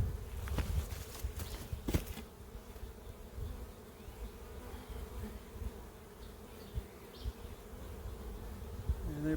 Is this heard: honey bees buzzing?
yes